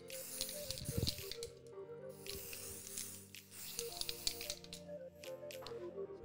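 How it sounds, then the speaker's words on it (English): Several hissing bursts of hair texture spray from an aerosol can, some long and some short, over steady background music. "now we're going to go in texture spray"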